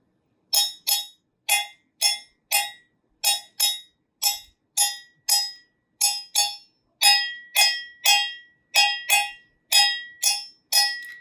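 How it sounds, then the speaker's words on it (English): A cowbell struck with a pen instead of a stick, bright metallic clinks in a steady repeating beat of quick paired and single hits, loud and close, with no voices. "It's still quite loud even with a pen."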